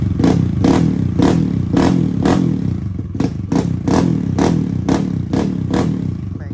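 Kawasaki KLX140 dirt bike with stock carb, big-gun exhaust and airbox mod, revved in a series of about a dozen quick evenly spaced throttle blips over a steady idle, close and loud.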